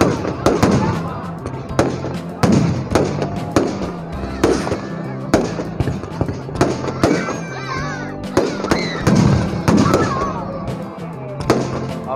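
Repeated sharp fireworks bursts, some close and loud, popping in quick irregular succession with crackling tails and a busy crowd in the background, at a Kumbhakarna effigy-burning celebration in Kanpur.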